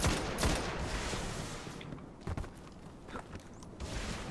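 Rapid gunfire in the video game Destiny during a Vault of Glass hard mode raid, with dense bursts of shots layered over constant game noise and several sharper cracks standing out.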